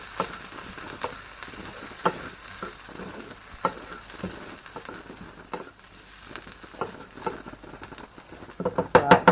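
English mustard cooks in a pan for creamy garlic chicken with a quiet, steady sizzle. Intermittent stirring scrapes and taps punctuate it, and a cluster of sharper clatters comes near the end.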